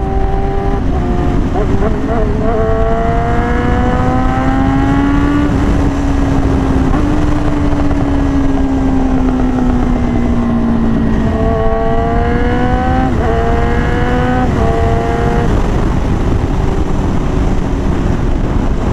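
A Yamaha R6 motorcycle engine revs hard through a loud Akrapovic and SC Project titanium exhaust, its pitch climbing and falling in repeated surges, close and continuous for the whole stretch.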